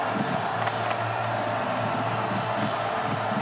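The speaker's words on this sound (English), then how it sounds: "You can hear this crowd really getting into this ball game, getting to their feet, and imploring their defense to get off the field." Stadium crowd at a college football game cheering and roaring as fans rise to their feet, a dense, continuous wash of voices and noise from a large crowd at steady loudness.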